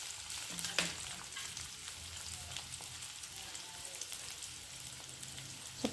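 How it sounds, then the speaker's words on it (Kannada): Onions fry in oil with cumin and mustard seeds, giving a faint, steady crackling sizzle with light hiss and occasional small pops throughout. "ಗೋಲ್ಡನ್ ಕಲರ್ ಬರೋವರೆಗೂ ಇದನ್ನ ಫ್ರೈ ಮಾಡ್ಕೋಬೇಕು ರೀ."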